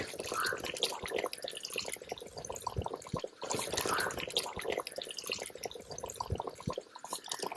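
Coconut milk pours into a quail gravy cooking outdoors in a village, a wet, dripping, splashing liquid sound that repeats in bursts under continuous background noise.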